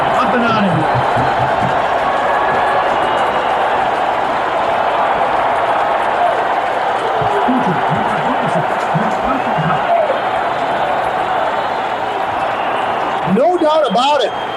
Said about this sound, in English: listen to this Brewer crowd go into a frenzy